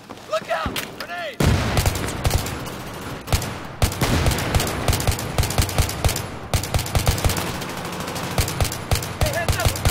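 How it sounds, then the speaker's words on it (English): Battlefield video game combat with a grenade blast and rapid bursts of machine-gun fire, loud and dense with repeated sharp shots and booms over constant battle noise, with voices shouting briefly. "Look out! Grenade!"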